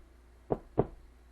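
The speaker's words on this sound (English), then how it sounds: "a hollow knock means it's nothing but drywall. Solid knock is a stud, a 2x4 on the other side" Two sharp knocks on a drywall wall, about a quarter second apart, each a short, clean thud up close, tapping to locate a 2x4 wood stud behind the surface.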